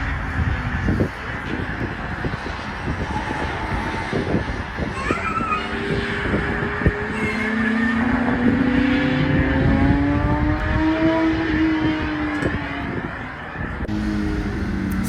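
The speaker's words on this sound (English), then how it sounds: "let's listen to the cars and some of the spectators in the area." Porsche cars race around the track at the Porsche Experience Center, engines droning and rising in pitch as they pass, loud and continuous under wind buffeting.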